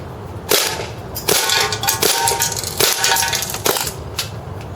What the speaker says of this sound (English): I'm going to finish off this PDW magazine, so a few shots on semi-automatic